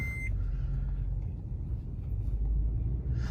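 A 2005 Toyota Tundra with 60,000 miles rolls on a test drive, a steady low cabin rumble of engine and road noise, opening with a brief electronic beep.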